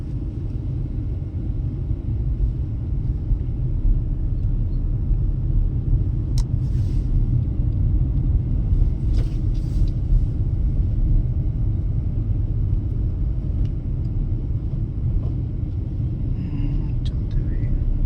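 A Tata Punch car driving along with a steady, deep engine and road rumble heard from inside the cabin, continuous and fairly loud throughout, with a voice giving instructions over it.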